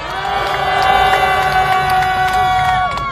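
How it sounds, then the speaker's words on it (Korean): Crowd at a candlelight protest rally in a public square applauds and cheers, a loud continuous roar of clapping and shouts, with sustained tonal sounds running through the mix. "다시 한번 뜨거운 박수 보내주십시오."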